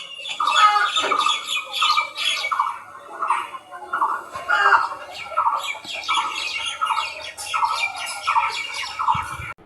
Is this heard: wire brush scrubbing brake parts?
no